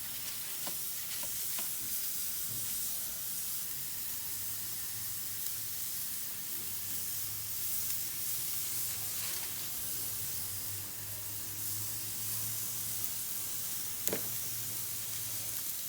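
Burger patties sizzle and fry steadily on a home grill while making a Western bacon cheeseburger, a continuous close hiss with occasional crackles and a brief sharp pop near the end.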